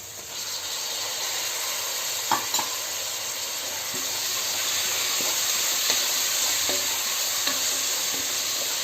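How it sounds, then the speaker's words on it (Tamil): Chopped tomatoes sauté in a pan for wedding-style chicken biryani, giving a constant sizzling hiss with soft stirring clicks and scrapes now and then, close by, with no talk. "இப்போ நம்ம வந்து வெட்டி வச்சக்கூடிய தக்காளியை போட்டு நல்லா வதக்கிடுவோம்."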